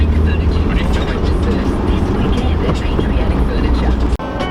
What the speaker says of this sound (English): We're all in Jacob's van.